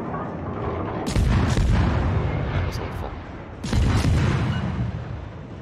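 Two heavy booming naval artillery shots from a warship in World of Warships, each a loud blast trailing into a rumbling decay, with a person speaking faintly between them.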